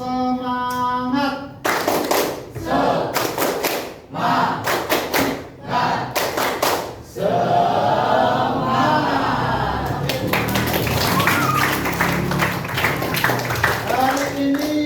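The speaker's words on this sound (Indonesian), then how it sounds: "Yaitu pertama kita tepuk semangat ya" A classroom of students performs a rhythmic spirit clap, bursts of many hands clapping together in patterned groups with pauses between, loud and close, with voices chanting along at times.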